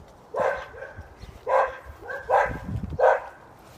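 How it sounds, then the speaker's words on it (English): Several dogs bark in a backyard at home, four short separate bursts of barking and yipping at moderate distance over a low background hum, with no talking. "dogs won't shut up"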